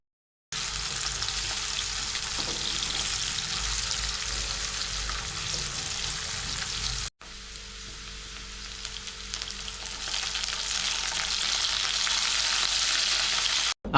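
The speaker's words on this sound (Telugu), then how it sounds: "తాలింపు గింజలు కూడా ఫ్రై అవ్వగానే మనం కట్ చేసి పెట్టుకున్న ఆనియన్స్ కూడా అయితే వేసుకోండి" Chopped onions and tempering seeds fry in hot oil in a pan for a green beans stir-fry, a loud, steady sizzle that runs throughout, pausing for a moment midway before resuming just as strongly.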